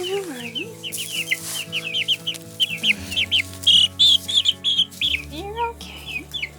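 Young chicks that have escaped their enclosure, chirping in rapid, high, shrill peeps, close and loud, with one frantic chick calling repeatedly and a few voices faintly in the background.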